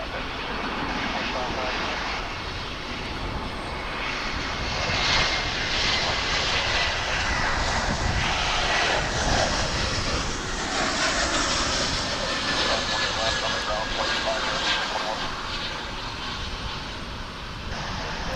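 A commercial airliner lands at Dallas/Fort Worth International Airport, a loud sustained engine roar that swells and holds, heard from nearby as people talk over it.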